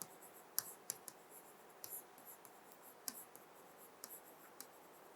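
A pen scratches and taps on paper in quick, irregular strokes, faint and close, with no talking.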